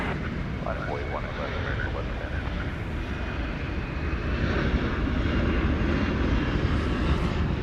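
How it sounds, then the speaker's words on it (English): An American Airlines jet arriving from Miami approaches to land at DFW Airport at night, a steady low rumble of engines growing slightly louder, heard under a person talking nearby. "Got an American flight coming in from Miami."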